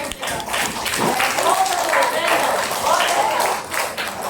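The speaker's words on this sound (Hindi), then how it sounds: "चलो ताली तो बजा दो इसके लिए" A classroom of children clapping for a boy's drawing, scattered hand claps running under a teacher's voice that carries on talking throughout.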